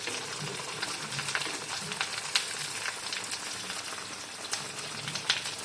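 Sardine curry cooked with onion and chili bubbling uncovered in a pan, a steady close sizzle with soft popping bubbles and no voices.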